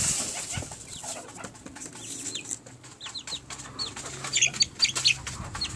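Chickens and a chick cluck and chirp while being fed grain, with a busy cluster of close bird calls growing louder toward the end over soft rustling and background noise.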